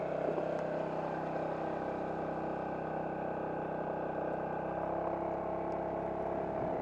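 Honda Forza scooter turning in a U-turn, a steady low engine hum at fairly constant revs, moderately quiet and close, with no talking.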